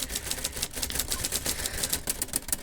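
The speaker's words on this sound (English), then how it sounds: "I sat down at the typewriter and it started to pour out of me." Rapid, furious typing on a typewriter, a dense run of sharp key strikes clattering close and loud with no pauses and no voices.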